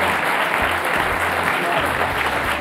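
Audience applause at a World Economic Forum panel session in Davos, a dense, steady wash of many hands clapping throughout at close range, with faint low murmurs underneath.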